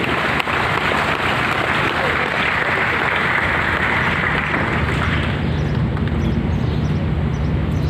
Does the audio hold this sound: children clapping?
yes